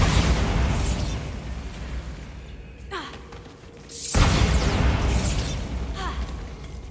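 A Bombarda blast spell goes off in Hogwarts Legacy, two broad roaring booms with rumbling tails, loud and close, separated by a brief quieter lull.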